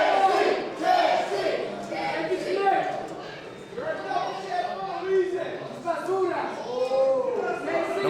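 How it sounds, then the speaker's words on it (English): A wrestling crowd rallying behind KC Navarro in a title match, loud chanting and cheering rising and falling in rhythmic waves, with voices shouting over the crowd roar. "crowd rallying behind KC NAVARRO in his quest to become the live champion"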